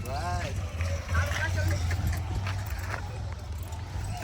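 Horse hooves clip-clop amid a busy horse fair in Simar village, with steady crowd babble and nearby voices talking over the ground-level thuds.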